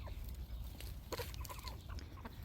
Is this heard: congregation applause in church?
no